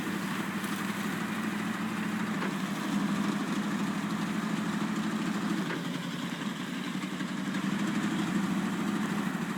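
A Ford truck in Snowrunner labors in all-wheel drive, its engine droning with a steady, strained rumble that holds near and constant throughout.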